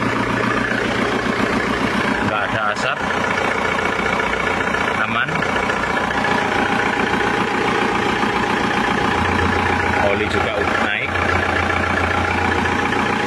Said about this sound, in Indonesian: mesinnya udah normal, suaranya juga udah enak